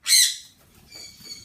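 Pet birds give a loud, sharp squawk at the start, followed by quieter chirping calls a moment later, close by with no talk.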